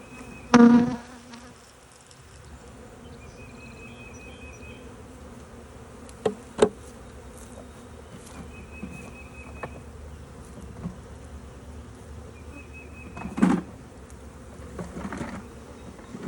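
Honey bees drone around an opened hive in spring, a steady low buzz throughout with occasional louder passes close by and a few sharp knocks of hive equipment.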